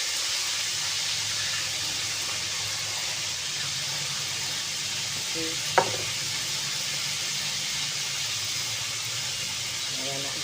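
Marinated milkfish (bangus) fries in a pan with a steady, moderate sizzle and hiss throughout, broken once by a brief clink.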